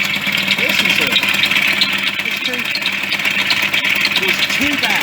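A 1988 Yamaha DT50MX engine runs loud and close with loose bearings, giving a steady buzzing drone with a harsh metallic rattle throughout, while voices can be heard over it.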